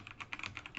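A URL is typed on a computer keyboard as a short, quick burst of light key clicks, close and alone.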